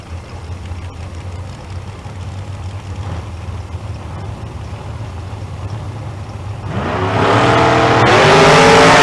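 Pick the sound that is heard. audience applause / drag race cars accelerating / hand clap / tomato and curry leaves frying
drag race cars accelerating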